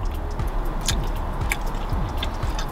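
Someone chews a chewy strawberry bonbon candy up close, with wet, squishy bites and smacking repeated in a quick, uneven rhythm.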